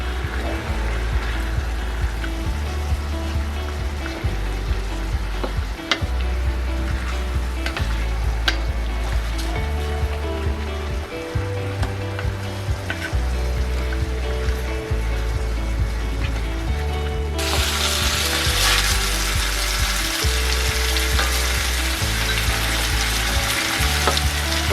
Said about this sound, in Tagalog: Let's brown the chicken.